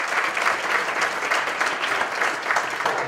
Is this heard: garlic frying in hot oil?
no